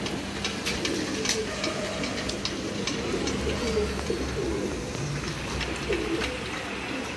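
Pigeons coo steadily in repeated low, throaty phrases at a pigeon loft, with a constant bed of nearby cooing and faint sharp clicks and rustles over a dull background hum.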